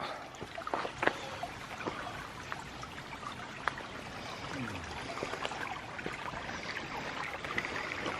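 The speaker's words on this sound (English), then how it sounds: "Nice little brook." A small brook on the Appalachian Trail in Maine trickles and babbles steadily nearby, with scattered drips and splashes over a constant watery wash. There is no talking.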